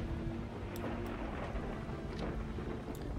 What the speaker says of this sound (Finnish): Dramaattinen ukkonen